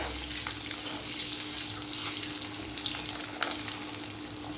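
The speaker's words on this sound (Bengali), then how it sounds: "লাল লাল করে ডিমটা ভাজতে হবে" An egg fries in hot oil in a pan, giving a constant, close crackling sizzle with a few small pops. No one speaks.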